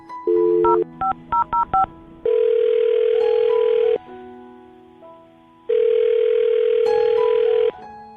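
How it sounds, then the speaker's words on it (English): Touch-tone beeps dial a number in quick succession, then a phone rings twice with long steady tones and a pause between, loud and clear. "I'll dial her phone number right now, see if we can get her on the phone"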